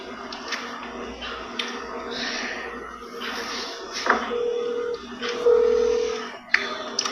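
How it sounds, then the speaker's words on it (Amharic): An outgoing phone call ringing on the line, with steady repeated ring tones and faint background noise, heard close and alone without talk. "እየጠራ ነው።"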